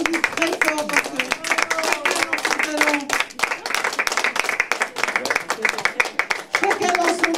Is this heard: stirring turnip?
no